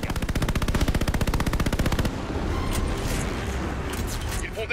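Anti-aircraft guns in a 4 June 1942 Battle of Midway scene fire a fast, loud, evenly spaced automatic burst for about two seconds, then fade into a dense battle rumble with scattered distant impacts.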